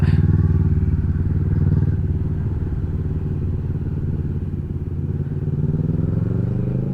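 A motorcycle engine idles with a deep, steady low throb close by at a racing bike fest, continuous and loud with no other sound rising above it.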